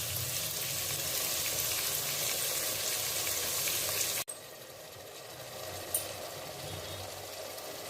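Tomatoes sautéing in a pan for chicken leg piece gravy, a steady broadband sizzle that drops abruptly midway and continues more softly, with a faint clink near the end and no talking.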